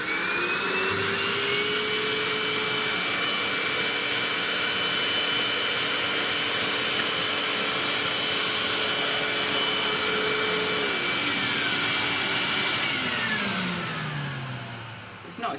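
A Hoover vacuum cleaner runs close and loud with a crevice tool, its steady motor whine holding a long even pitch before winding down and falling away near the end.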